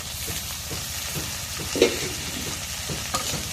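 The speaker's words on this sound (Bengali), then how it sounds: "এখন শুটকিটা তেলে আমি দিয়ে দিই।" Dried fish fries in hot oil alongside chopped green chilies and onion, giving a constant close sizzle with a few sharp pops and no talking.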